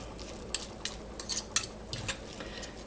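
A utensil mixes bologna salad in a bowl, making a series of soft scraping clinks in an uneven rhythm, close and fairly quiet.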